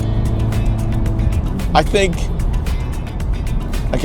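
Steady low engine drone of a four-cylinder convertible on the move with the top down, with someone talking over the rumble throughout.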